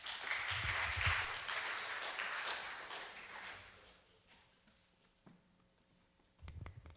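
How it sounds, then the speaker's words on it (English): Audience applause after a finalist presentation at a university ideas competition, loud sustained clapping for several seconds that fades out, followed by a quiet pause and a few thumps and movements near the end. "Another round of applause"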